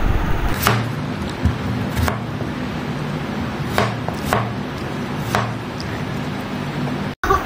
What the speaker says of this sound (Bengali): আমি আর আমার ভাই শসা কাটছি।